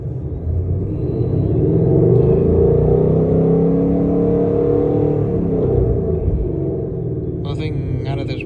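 A newly built car engine idles on a dyno with a steady, loud, low rumble that swells slightly in the middle, then a brief clatter near the end.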